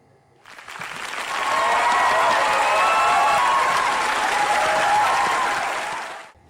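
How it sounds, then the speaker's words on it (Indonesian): A hall audience applauds after a performance blending rap and orchestral music, the clapping swelling in quickly, holding as a loud, dense roar, then fading away, with faint voices mixed in. "Tepuk tangan pun bergemuruh di seluruh ruangan atas penampilan mereka."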